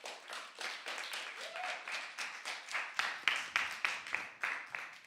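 Steady audience applause, many hands clapping in a dense rhythmic patter that holds at an even, fairly loud level without a break, with no one talking over it.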